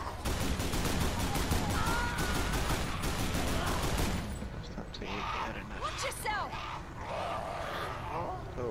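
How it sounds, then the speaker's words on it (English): Dead Island gunfire bursts in rapid, dense volleys for about four seconds, then fades to scattered game sounds and faint voices underneath. "Shoot, I'm gonna shoot."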